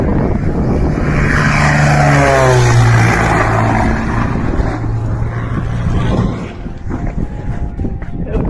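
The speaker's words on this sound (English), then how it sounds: "As the plane descended towards the ground, a startling event took place." Propeller airplane descending toward the ground, a steady loud engine drone with a falling pitch sweep, shifting to a rougher, noisier rumble near the end.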